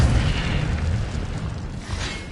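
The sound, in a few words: Incendio fire spell cast in a Harry Potter video game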